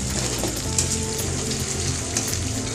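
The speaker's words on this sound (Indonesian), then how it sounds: "Tumis sampai harum." Spice paste sautés in a pan with a steady soft sizzle and faint scraping stirs throughout, quiet and continuous, with no voices.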